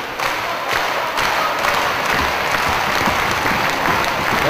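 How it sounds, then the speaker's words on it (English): Wrestling crowd at an international tag team match clapping along, loud dense applause with rhythmic thumps and some cheering mixed in, continuous throughout. "The fans clapping along."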